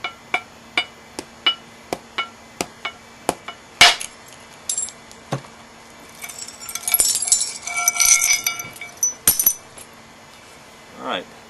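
Hammerstone knapping a large basalt biface at the field spalling stage: a steady run of sharp, close strikes early on, then one hard crack, followed by scraping and clinking as the worked edge is cleaned up.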